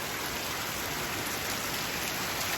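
Heavy rain and runoff stream off a roof without a gutter in a steady, dense hiss of water, close and continuous with no breaks.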